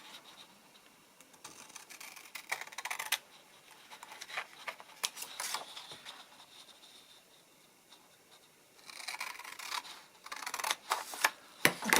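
Scissors snip through paper to cut out squares for a paper rosette card, coming in short bursts of crisp cutting and rustling with quiet pauses between, close and fairly soft.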